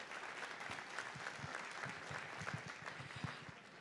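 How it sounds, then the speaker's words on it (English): A church congregation at a contemporary Sunday service applauds a woman who has been welcomed forward, a faint, distant patter of hands with a few sharper individual claps throughout. "Please give her a round of applause."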